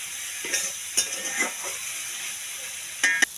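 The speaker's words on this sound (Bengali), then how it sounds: "আলু বেগুন আর পুঁই মেজরি ভালো করে ভেজে নেব, মানে কষিয়ে নেব" Potato, eggplant and Malabar spinach shoots fry in a pan with a continuous hiss. A few spatula scrapes and stirs break through at intervals, close and clear, with no one speaking.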